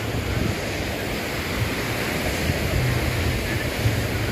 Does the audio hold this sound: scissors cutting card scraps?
no